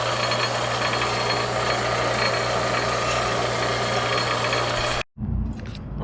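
Grinder working on an emulsion tube from a Weber IDF 40 carburetor, a steady loud mechanical drone with a constant low hum for about five seconds, then cutting off abruptly into quieter handling noise.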